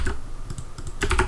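Typing on a computer keyboard while writing CSS, a quick close run of key clicks with a denser burst near the end, no voices.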